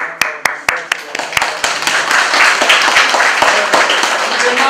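Applause from the audience at a seminar on parliamentary elections. A few sharp separate claps open it, then they thicken into steady, fairly loud clapping with voices underneath.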